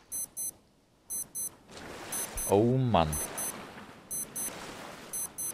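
A warning beeps in Stranded Deep, repeated pairs of short high electronic tones in a regular rhythm, with a man's brief exclamation breaking in midway over a faint watery background.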